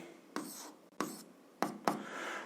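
Four brisk scratching strokes of a pen on paper mark out an equation by hand, close and crisp with near silence between them.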